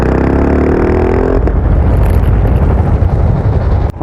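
A Husqvarna Vitpilen 701 single-cylinder motorcycle, restricted to 47.5 for an A2 licence, pulls strongly from low revs with a loud, steady engine drone and heavy wind roar, the harmonic note climbing before easing off near the end.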